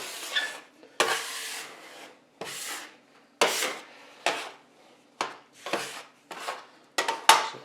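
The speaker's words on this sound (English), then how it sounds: "you can get your dough scraper out for the board" A dough scraper scraping across a flat marble pastry board while making pasta dough: about nine short, close scrapes in an even rhythm, each separated by a brief silence, with no voices.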